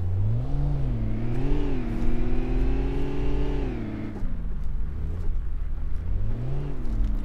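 Car engine at full throttle in the VR driving game City Car Driving: a loud, close engine roar whose pitch climbs, dips briefly as gears change, then rises again, running without any talk.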